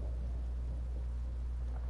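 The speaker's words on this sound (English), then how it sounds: "I could do without this damnable rain. It's been storming since we arrived, and it shows no sign of letting up." Steady rain with a low storm rumble in Elder Scrolls Online, a continuous even wash of heavy rainfall and deep background thunder roll, with no voices.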